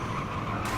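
A race car at Iowa Speedway in the video game NASCAR Heat 3 grinds against the wall, a steady loud scraping roar with tire skid over the engine, lasting under a second.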